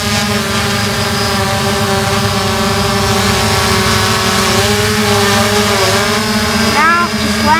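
An RC helicopter fitted with a Zero UAV YS-X4 flight controller spools up for takeoff, a loud, steady motor whine with sustained harmonic tones that bend in pitch as the throttle shifts near the end.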